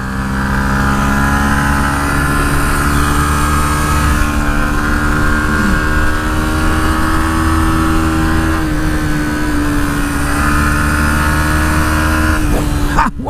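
A Yamaha MT-125 motorcycle engine held at a high, steady drone during a test ride, its pitch climbing slightly and then easing, loud and constant with wind noise behind it.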